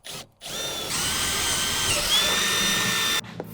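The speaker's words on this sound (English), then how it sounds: "I'm just gonna thread the screws up from the bottom that hold the rack on" A power drill drives screws upward through a camper roof rack, giving a loud, continuous whirring whine that rises in pitch partway through and then stops abruptly.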